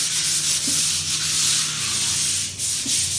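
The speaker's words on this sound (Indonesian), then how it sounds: "kita akan mencoba amplas medianya supaya hasilnya nanti lebih licin" Sandpaper is rubbed over a surface to smooth it before a base coat, producing a loud, continuous scratchy hiss with steady back-and-forth strokes, close up.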